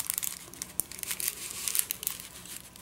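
A small glassine bag in an envelope crinkles and rustles as it is handled up close, a steady run of crisp papery crackles lasting a few seconds, with no talking.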